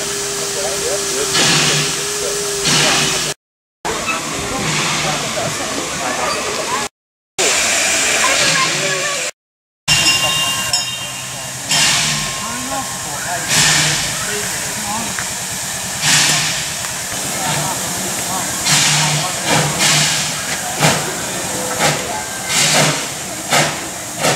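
Steam locomotive Number 38 near Melbourne hisses loudly and steadily, heard from inside the engine cab, with clanking and chuffing bursts and voices talking over it at times.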